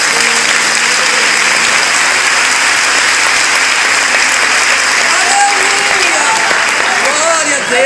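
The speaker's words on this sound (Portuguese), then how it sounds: "Aplauda o rei se você crer." A church congregation applauds loudly and continuously, a dense wash of clapping that fills the space, with voices rising and calling out beneath it toward the end.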